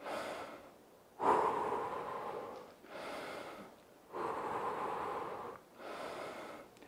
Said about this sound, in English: In through your nose, out through your mouth, nice and controlled.